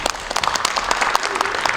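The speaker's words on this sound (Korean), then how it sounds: "감사의 박수를 부탁드리겠습니다" People at a regional mayors' and county heads' council meeting give a short burst of applause, with loud, close, uneven clapping and a voice faintly audible underneath.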